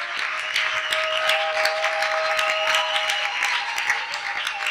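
A church congregation applauding during a worship service, sustained even clapping from a sizeable crowd that stays loud and steady throughout with no clear break.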